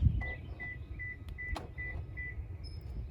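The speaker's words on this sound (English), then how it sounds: "So I program this fob, unlock." A car key fob unlocks a vehicle after a door lock cylinder replacement, followed by a run of evenly spaced short electronic beeps, with a few sharp clicks of the door lock actuators mixed in.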